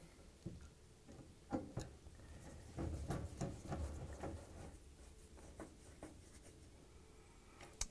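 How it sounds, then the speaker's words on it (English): A Phillips screwdriver drives screws into the bottom of a Samsung dryer behind the open door, giving quiet, close scraping and irregular clicking ticks. "I'm using a Phillips screwdriver."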